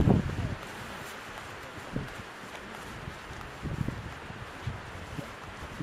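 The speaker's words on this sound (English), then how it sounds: "It is windy." Gusts of wind in the Wicklow Mountains, Ireland, buffet the microphone in low rumbling bursts, with soft rustling between them and a voice speaking faintly.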